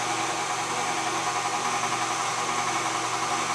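A stand mixer runs steadily at low speed while beating a butter cake batter, a continuous close motor whir with a broad even hiss and no pauses.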